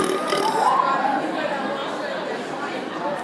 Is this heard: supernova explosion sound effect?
no